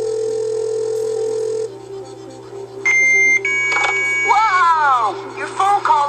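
Electronic phone ringing and beeping tones in the Who Wants to Be a Millionaire Kids Edition video game, steady synthetic tones followed by warbling, sliding dial-up style sounds, loud and close.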